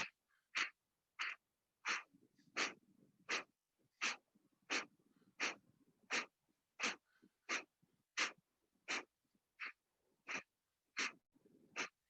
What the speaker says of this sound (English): Take a big full inhale. And then here we go, exhaling.